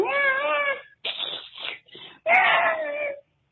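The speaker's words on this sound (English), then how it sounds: "I'm pretty much sitting outside with a stray cat." A stray cat meows outdoors in several loud, drawn-out wailing cries close to the listener, with brief pauses between calls.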